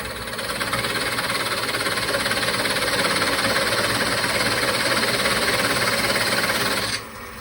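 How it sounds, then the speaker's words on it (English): A wood lathe spins while a small dovetail-shaped scraper cuts a chuck recess into a turned display box, giving a loud, steady, rough grinding scrape that stops abruptly near the end. "that's where I'll cut in for the chuck using my little dovetail shaped scraper"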